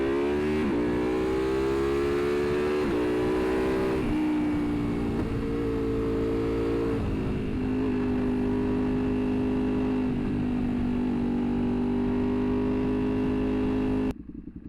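A motorcycle engine with baffles in its exhaust runs steadily nearby, a loud, continuous drone that dips and rises slightly in pitch, then cuts off abruptly at the end.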